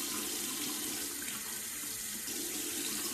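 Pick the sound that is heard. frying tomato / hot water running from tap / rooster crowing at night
hot water running from tap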